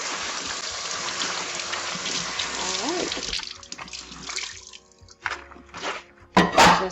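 Running tap water in a kitchen sink while gloves are washed, a steady close hiss of flowing water that cuts off partway, followed by scattered splashes and a faint voice.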